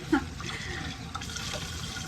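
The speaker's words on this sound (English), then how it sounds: "So I'm gonna get my jars out. I'm actually gonna rinse them in hot water." Hot water runs from a kitchen tap in a small home kitchen while canning jars are rinsed, producing a continuous close splashing hiss with faint clinks.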